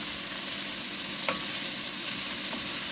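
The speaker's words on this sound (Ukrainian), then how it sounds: "Обсмажую до м'якості. Цибулька має бути м'яка, прозора." Sliced onion half-rings frying in a pan for Transcarpathian lecho, giving a steady close sizzle throughout with a couple of faint scraping stirs and no voices.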